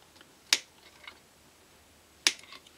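Two sharp, crisp snips about 1.7 seconds apart as side cutters trim excess wire leads on a GU50 monoblock tube amplifier, close and fairly quiet with a hushed background.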